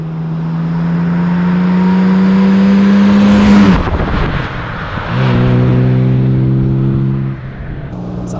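A 1955 Jaguar XK 140 with a 3.5-litre six-cylinder engine runs close by, holding a steady loud drone, dipping briefly, then rising again to a strong, even hum.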